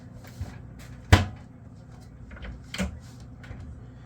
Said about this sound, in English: let me get in my magic drawer over here and see what else we got